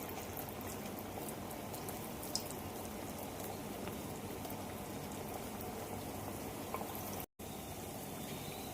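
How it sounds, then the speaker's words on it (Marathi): Vadas frying in hot oil in a kadhai, a steady, dense bubbling sizzle that runs evenly throughout, with one brief dropout near the end. "तेल छान गरम झाले आता आपण इथे वडे सोडूया"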